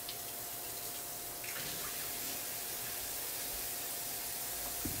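Steady running water from a kitchen tap rinsing vegetables for minestrone soup, a continuous moderate hiss and splash throughout, with no talking.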